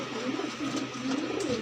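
A male Madrasi pigeon coos in low, rolling, repeated calls, close and fairly clear against quiet background noise.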